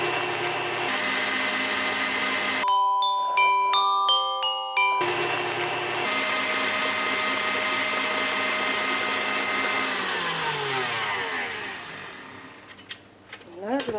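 An electric mixer whisks eggs one at a time into creamed butter and sugar for a Christmas cake, a steady whirring drone throughout with a short burst of clinking tones partway, winding down near the end.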